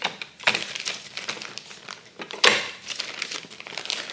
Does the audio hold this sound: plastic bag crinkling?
yes